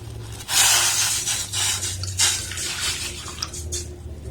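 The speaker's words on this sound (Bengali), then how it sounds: "এর মধ্যে এই কাপের এক কাপ আমি জল দিয়ে দেবো" Water from a cup poured into a kadai set on a lit gas burner, a steady splashing gush starting about half a second in and continuing with shifting intensity, close and fairly loud, with a low burner hum underneath.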